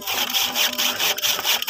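A hand saw with a rusty, freshly sharpened blade rasps through wood in quick, even back-and-forth strokes, close and loud, with no talking.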